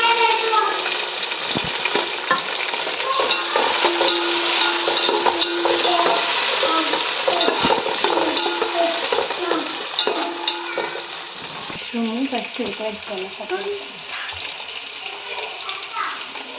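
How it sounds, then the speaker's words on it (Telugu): Onions, tomato and green chilies frying and being stirred in a pan for mushroom biryani, a steady close sizzle with scraping stir strokes running throughout. "ఆనియన్ ఇలా బ్రౌన్ అయిన తర్వాత టమోటా వేసుకోవాలి."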